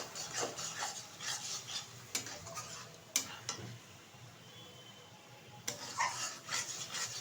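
A spoon scrapes and knocks against a pan while a coconut and milk mixture is stirred for narkel naru, giving irregular soft scraping strokes and a few sharp clinks, fairly close, with no talking.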